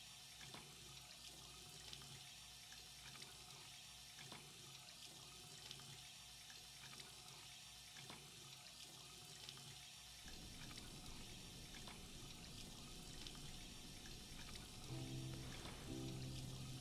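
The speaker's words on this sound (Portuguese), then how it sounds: "E o barulho da torneira continua" Tap water runs steadily in a Life is Strange 2 game scene, a constant hiss with muffled background tones throughout, growing slightly louder near the end, no one talking.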